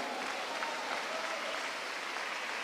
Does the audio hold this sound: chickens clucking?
no